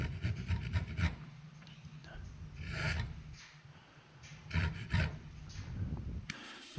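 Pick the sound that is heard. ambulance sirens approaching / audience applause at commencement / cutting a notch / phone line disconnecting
cutting a notch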